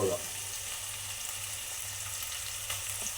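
Chopped tomato goes into hot oil for a Tamil Nadu-style fish curry and fries with a steady, even sizzle that lasts throughout, close and fairly quiet, with no talk.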